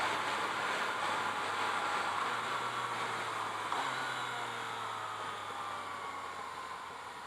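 Riding a 2017 Yamaha FZ-09 motorcycle through a few upshifts and downshifts, a steady roar of engine and wind noise with subtle changes in pitch as gears change.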